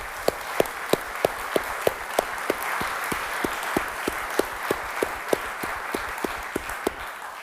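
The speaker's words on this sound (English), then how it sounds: "let's just give one more big round of applause to all of the above" Audience applause at a flood and coast conference plenary, a full room of clapping with several sharp, evenly paced claps standing out near the microphone over the broader crowd.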